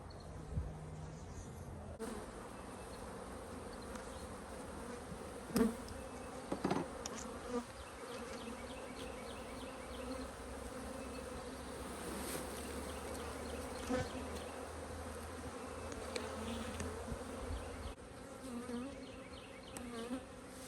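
Bees buzz in an opened beehive during a spring check for larvae. A steady, close, droning hum continues throughout, with occasional louder passes as individual bees fly near.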